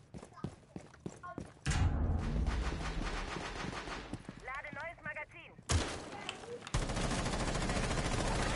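Video game gunfire, half a magazine fired at Jäger: sharp single shots early, then sustained loud automatic bursts with impacts, while someone talks over the action.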